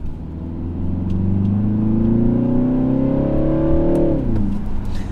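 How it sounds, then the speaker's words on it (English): A BMW in manual sports mode revs loudly and close, its exhaust note climbing steadily over about four seconds with a deep Subaru-like rumble before dropping back as the revs fall. "the exhaust actually sounds like a Subaru"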